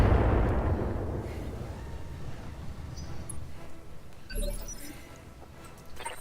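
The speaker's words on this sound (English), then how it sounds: "Oh god, missiles. Ah! Lots of missiles." Missile turrets in the Battletech game launching a volley of missiles: a loud opening blast rolls into a dense, fading rumble, then a second burst of impacts near the end, with faint voices underneath.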